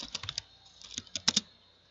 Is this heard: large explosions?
no